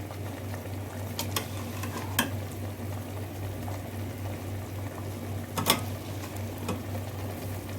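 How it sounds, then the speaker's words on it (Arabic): Spinach cooking in a pan for an Egyptian-style dish, with a low bubbling simmer and steady background hum, broken by a few sharp clinks of a spoon against the pan while it is stirred. "انا هنزل بكل كميه السبانخ. خلاص انا هقلبها بقى كويس كده."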